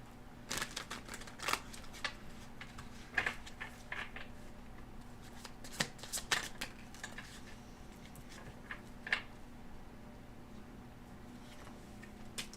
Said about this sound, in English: I'm going to shuffle some of these cards